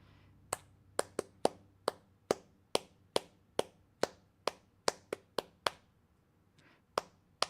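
Sharp claps or ticks at a steady beat, with a few quick doubled hits, set to a metronome during cello practice. The sounds are close and crisp, each standing alone over faint low hum, with no talking.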